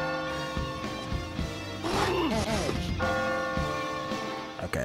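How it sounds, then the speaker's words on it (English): Bells ring out over layered musical tones in the video game Catherine, with a brief burst of voice-like sound in the middle. "Oh, I hear the bells ringing."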